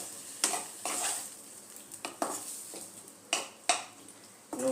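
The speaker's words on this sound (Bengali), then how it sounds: "ভালো মতো নুন আর হলুদটা মিশিয়ে নেব" Tomato chutney being stirred with salt and turmeric in a pan, a utensil scraping in several distinct strokes over a soft sizzle, close and alone with no voices.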